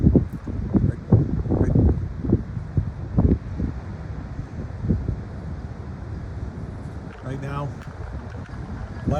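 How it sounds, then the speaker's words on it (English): High wind gusting outdoors during a storm in Rochester that tore shingles off a roof, a steady loud rumble with buffeting bursts across the first half, continuing more evenly after, with a brief chirping sound near the end. "our high wind event right now"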